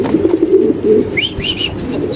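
White Bombay pigeons coo in low, rolling notes at close range, followed by a couple of brief higher chirps, alone without talk.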